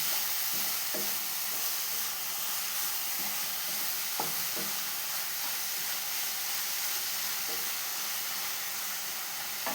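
Coconut stirred with cardamom and sugar in a pan, heard as a steady frying sizzle and hiss, with a few soft scraping knocks spaced irregularly throughout and no voices.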